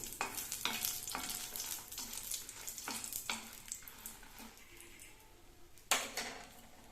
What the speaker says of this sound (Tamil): அடுத்தது அதே எண்ணெயில் 10-12 மிளகாய். ஸ்டவ்வை நல்லா ஸ்லோவாக வச்சுட்டு இதுவும் செவந்தோடனே எடுக்கணும்.